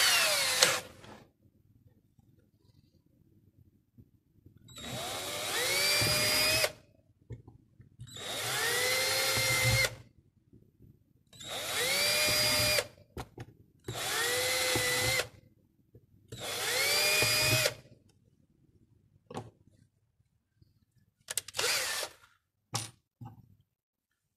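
A power drill with a 3.5 mm bit whines in about six separate bursts of a few seconds each, with quiet pauses and small clicks between them, drilling holes in a mechanical vending machine.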